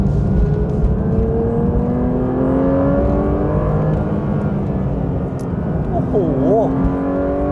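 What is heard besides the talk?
Porsche 911 S/T engine revving to 9,000 rpm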